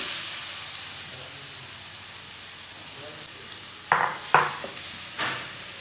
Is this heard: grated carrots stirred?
yes